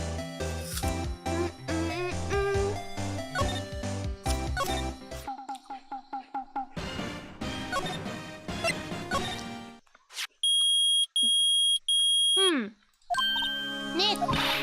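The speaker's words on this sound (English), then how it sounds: "Nick, it's beeping. The metal detector's found something." Electronic beeping from the metal detector in the Phoenix Wright: Ace Attorney video game, heard as bright repeated tones over a stretch of game music and sound effects, with music both before and after.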